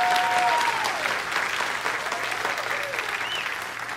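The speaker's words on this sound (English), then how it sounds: "So I take it from that applause" A congregation at a spiritual living center applauds together, a full, even burst of clapping that holds steady for several seconds before easing off slightly, with no voices over it.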